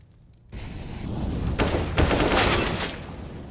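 Gunfire in a Counter-Strike match on Mirage, heard as a rapid burst of close shots starting abruptly after a quiet moment and continuing in clusters with loud, sharp cracks.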